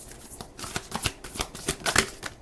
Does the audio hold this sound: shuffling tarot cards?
yes